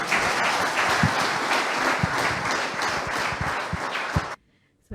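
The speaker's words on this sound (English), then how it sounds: "Please clap for him again." An audience claps in a formal session, a dense wash of many hands that stays steady for about four seconds, then cuts off suddenly into silence.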